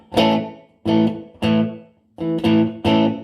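A Gretsch guitar played through a vintage Marshall amp with a low hall reverb setting, six strummed chords in a steady rhythm, each ringing briefly with a short reverb tail before the next, loud and close.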